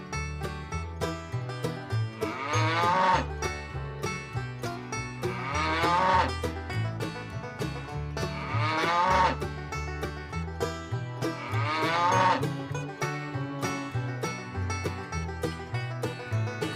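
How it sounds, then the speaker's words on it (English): A cow moos four times in slow, evenly spaced calls. The long lowing calls are loud and close, and they sit over a steady musical backing with no talk. "Cow."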